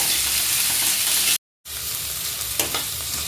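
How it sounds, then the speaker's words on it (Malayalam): Green chilies and onions frying in a tablespoon of coconut oil give a steady, loud, close sizzle with a stirring scrape near the end and a brief dropout in the middle. "അതിലേക്ക് ഒരു ടേബിൾ സ്പൂൺ വെളിച്ചെണ്ണ ഒഴിച്ചു കൊടുത്തിട്ടുണ്ട് നമുക്ക് പച്ചമുളകും സവാളയും കൂടി ആദ്യം ഇട്ട് കൊടുക്കാം"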